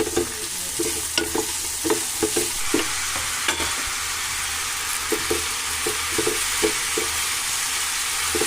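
Vegetable curry fries in a home kitchen pan with a steady broad sizzle, while a spoon scrapes and stirs in regular rhythmic strokes throughout, close and loud with no speech.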